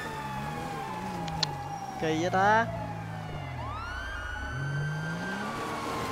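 Wailing police car siren in GTA V, its pitch sweeping up and down at moderate distance, under an engine hum and a brief burst of louder tones; someone speaks over it.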